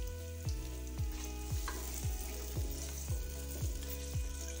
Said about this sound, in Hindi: प्याज फ्राई करते हैं।